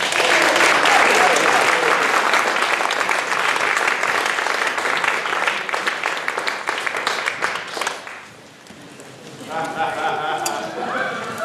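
An audience at a memorial gathering breaks into loud, sustained applause that swells and then fades. A voice starts speaking as the clapping dies away.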